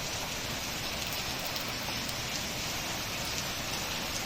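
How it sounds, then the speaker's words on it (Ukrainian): Spring rain pours steadily outdoors, a dense, even hiss of drops on surfaces that stays constant and close throughout, with no voices. "Дочекалися ми цього дощу нарешті."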